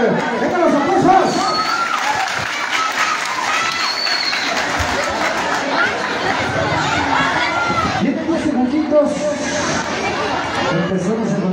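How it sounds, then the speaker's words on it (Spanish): A festival crowd at Santa María Malacatepec, Ocoyucan, on September 16 fills the space with dense cheering, clapping and overlapping chatter, with children's shouts rising through a steady, loud roar of voices. "Aplausos, sí señor, venga los aplausos."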